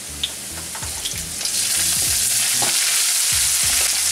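Sliced garlic and ginger paste fry in a pan with a steady loud sizzle, broken by the scrape and knock of stirring that grows denser toward the end.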